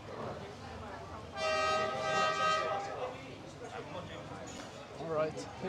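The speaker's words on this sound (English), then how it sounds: "All right, here's the train." Train arriving at a station in Hanoi, rumbling in under nearby chatter before a loud sustained horn blast sounds for about a second and a half, then the rolling noise continues as people talk.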